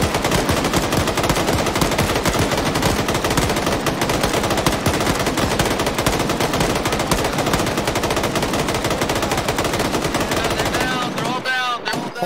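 Squad gunfire in the military shooter Arma 3, a loud, relentless barrage of overlapping automatic rifle and machine gun bursts sustained for over ten seconds before abruptly dropping off, with brief voices at the very end.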